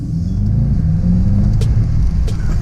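Deep steady rumble of a Mercedes-AMG E63 S engine idling close by in race mode, loud and continuous with a few light ticks above it.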